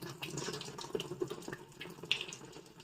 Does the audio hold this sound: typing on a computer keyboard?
no